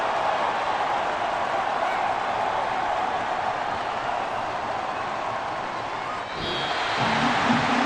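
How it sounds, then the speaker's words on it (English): Home stadium crowd in Madden 24 during a Dolphins versus Jets exhibition, a steady broad roar of applause and crowd noise filling the whole stretch, with a brief dip near the end. "And the home crowd applauding"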